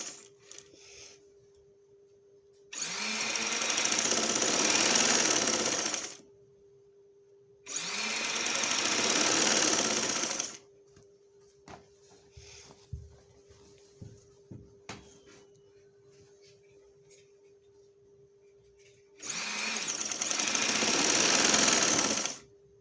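A sewing machine stitches piping in three loud bursts of rapid mechanical whirring separated by quiet pauses, with a steady low hum and faint clicks and handling taps between runs.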